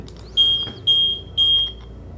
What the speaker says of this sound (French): C'est la caméra qui a fait le bip